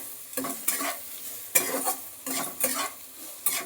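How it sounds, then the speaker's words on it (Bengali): Potatoes and onions fry in a pan with turmeric and a little Kashmiri chili powder, and a spatula scrapes through them in rhythmic bursts over a bright, constant sizzle. "দেখো আলু পেঁয়াজটা আমার লাল লাল করে ভাজা হয়ে গেছে"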